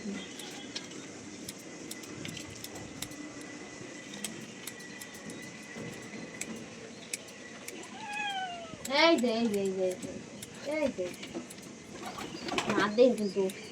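A cat meows several times during fur trimming, rising and falling, over a steady background hum, with a louder run of meows near the end.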